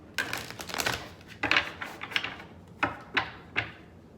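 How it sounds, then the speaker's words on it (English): Tarot cards being shuffled and split, heard as a run of crisp, close riffling and slapping bursts, several clustered early and then separate sharp flicks spaced apart, with no talking. "even just splitting the deck here, I got the Six of Wands"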